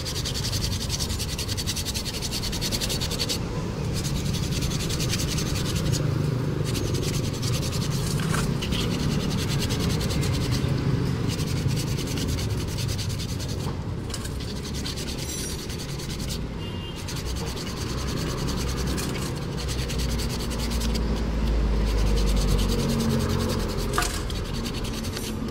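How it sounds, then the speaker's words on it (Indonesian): Hand sanding of a Honda Revo motorcycle engine part during a cam chain replacement, a continuous close rough rubbing and scraping with steady back-and-forth strokes and no talk. "Kita amplas aja."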